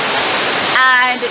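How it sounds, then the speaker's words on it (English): A rough, fast-flowing river roars as a steady broadband rush close by in a park estate, with a brief whistling tone partway through. "you can hear the river roaring in the background"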